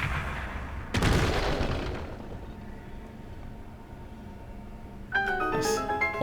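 A remote bomb in Zelda Breath of the Wild detonates with one loud, sharp blast and a rumbling tail. Later a bright chiming tone follows.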